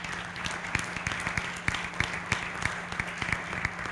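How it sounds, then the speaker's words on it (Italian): Audience at an Italian women's financial education event applauding to welcome a woman to her seat, a steady dense patter of many hands clapping with a few sharper individual claps, filling the whole stretch. "ti faccio venire con un applauso a sederti"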